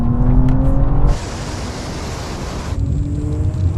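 A BMW XM and a BMW M2 accelerate hard in a rolling drag race from 50 mph, a loud broadband engine roar and rushing wind that swells abruptly, holds, then eases back into a lower rumble.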